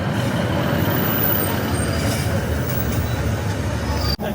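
An Esk Valley Line passenger train in North Yorkshire gives a steady, close engine drone and rolling rumble that holds throughout, ending in a sharp brief click near the end.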